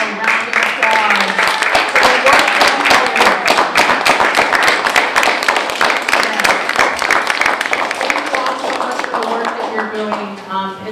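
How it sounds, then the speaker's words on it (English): Applause from an audience honoring mental health agency staff at an art gallery club event, dense continuous clapping for about ten seconds with voices mixed in, fading slightly at the end. "You all deserve a round of applause."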